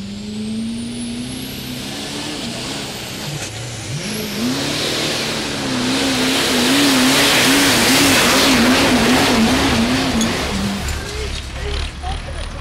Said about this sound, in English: Cody Pollo putting on a great hook there, getting it past the 250 but shy of the 300